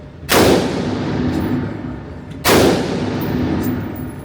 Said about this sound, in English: You shoot all your bullets out.